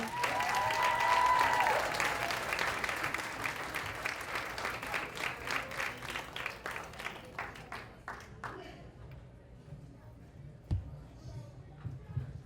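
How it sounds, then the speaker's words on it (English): A comedy club audience claps and cheers for comedian Mike Colalella on a Friday night, loud applause at first that thins into scattered claps and fades over several seconds. "Everybody give a round of applause for Mike Colalella."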